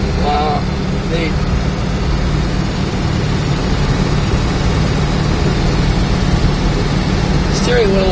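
A 1963 Dodge Polara driving along, its engine a loud continuous rumble with road and wind noise filling the interior, with a person's voice heard briefly at the start and end.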